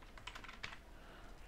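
A computer keyboard is typed on in a short, quiet burst of rapid keystrokes, close by, with no voices.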